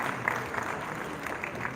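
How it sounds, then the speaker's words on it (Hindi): Applause from a seated audience as a university campus director is invited onto the stage at a Lohri and Makar Sankranti gathering, a steady patter of clapping at moderate distance that holds evenly through the short span. "तालियां बजाएं।"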